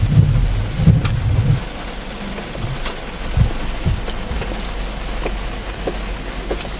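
Steady heavy rain hisses throughout in a Korean village, with deep rumbles of thunder rolling in the first seconds and occasional low thuds.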